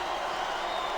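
A wrestling arena crowd roars in a dense, steady wash of cheering and applause, loud and unbroken for a brief moment.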